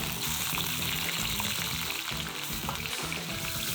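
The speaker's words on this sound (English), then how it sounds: "Now you just want to let these guys kind of just stir fry and get some really good color on the outside of those shells." Prawns in their shells stir-frying in hot garlic oil in a wok, a dense, steady sizzle running loud and close throughout with faint clatters of stirring mixed in.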